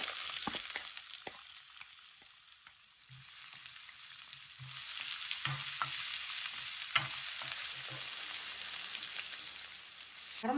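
Shallots fry in sesame oil in a kadai with a steady close sizzle and crackle, broken by occasional stirring clicks and scrapes.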